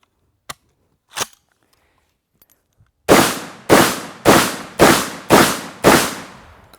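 A Vepr 12 shotgun firing powerful loads: two faint clicks, then six loud, sharp blasts in quick regular succession, close by, each with a short decaying tail as shells are thrown out.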